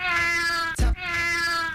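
A single cat gives a drawn-out, tonal meow, briefly interrupted by a loud low thump midway, then resumes. Close and clear, with no talking.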